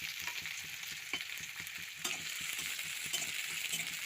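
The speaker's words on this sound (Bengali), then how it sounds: "পেঁয়াজটাকে ভালো করে ভেজে নিচ্ছি" Chopped onion frying in hot oil, a dense, continuous close sizzle with frequent stirring scrapes and small pops, and no voices.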